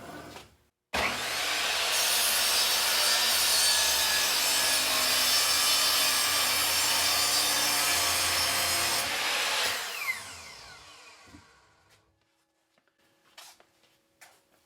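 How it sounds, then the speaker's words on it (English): A miter saw cuts through a piece of wood for a napkin ring, starting abruptly and running loud and steady for about nine seconds before spinning down, followed by a few faint knocks. "I'm going to go ahead and cut off a piece from the one end using my miter saw"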